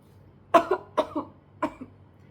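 Three short, close coughs come in quick succession, each a double burst, with brief quiet between them.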